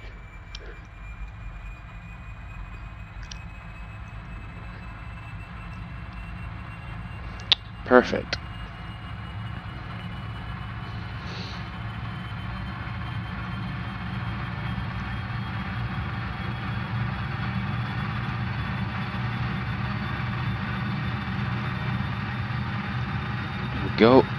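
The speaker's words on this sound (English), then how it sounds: "Start engine 2 first, like we usually do." Engine 2 of a Dash 8 Q400 turboprop spools up in a flight simulator, a steady rising whine over a low hum with a few clicks, while a voice speaks briefly.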